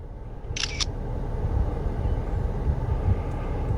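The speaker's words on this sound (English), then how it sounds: "You could hear the camera there." SINCAMEX S1 dash cam snapping a picture, a brief double shutter click near the start over a steady low hum of background noise.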